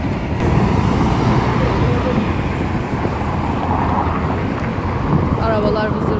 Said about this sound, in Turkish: Arabalar vızır vızır.